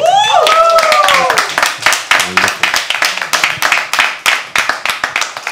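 Audience members at a live poetry open mic at The Habitat clap steadily in a rhythmic, even beat of close hand claps that follows a brief spoken and sung opening.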